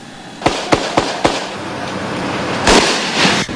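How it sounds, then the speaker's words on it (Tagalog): Sporadic gunfire crackles in Zamboanga City: four sharp, fairly loud reports at roughly even intervals, then a longer rumbling burst after a pause, over steady background ambience. "Bagamat may panakanakang putukan pa"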